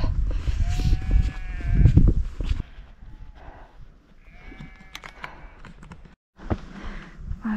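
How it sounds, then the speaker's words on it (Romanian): A flock of sheep bleats in the Retezat mountains of Romania, with several wavering calls from near and farther animals, some overlapping, over outdoor rustling and movement. "pe lângă o turmă de oi"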